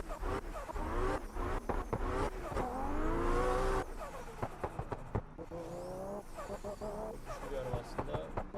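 A powerful 679-horsepower car engine in the Assetto Corsa racing game, revving and shifting with rising and falling pitch through gear changes, under someone talking.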